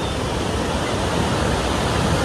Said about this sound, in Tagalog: Niawas na tubig.